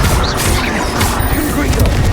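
A Confringo blasting curse explodes in Hogwarts Legacy, a loud, close boom that smears into dense crashing game noise lasting throughout, with voices mixed in.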